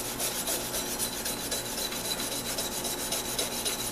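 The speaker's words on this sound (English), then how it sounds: "use a little elbow grease in there, rub as hard as you can, swish it around" Steady, vigorous scrubbing of a rusty garden trowel in soapy water, a continuous close rasping rub with a quick back-and-forth texture and no pauses, heard alone.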